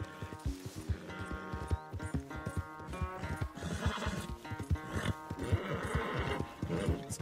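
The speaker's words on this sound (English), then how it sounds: "Where's that big, mean horse?" A horse neighs and whinnies repeatedly over rhythmic clip-clopping hooves in Red Dead Redemption 2, close and lively throughout.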